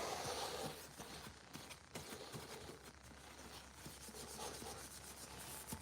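Hand sanding with sandpaper while scuffing a surface, a faint, rapid rubbing and scratching in uneven strokes that continues steadily throughout, with no voices.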